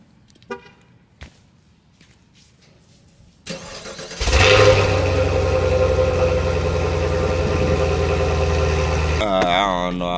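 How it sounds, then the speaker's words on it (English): A hotshot pickup truck engine cold-starts after a few faint clicks, cranking and then catching into a loud, steady idle that runs on for several seconds before a brief shift in tone at the end. "I'm finna give y'all a cold start for real"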